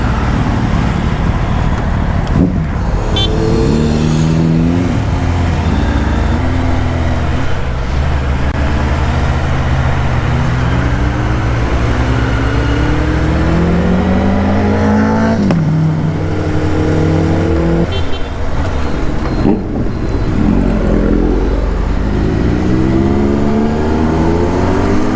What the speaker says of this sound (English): These two Boozas are insanely loud. You know, both have this super loud BROCKS exhaust system.